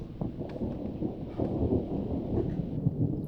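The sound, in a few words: thunder during a thunderstorm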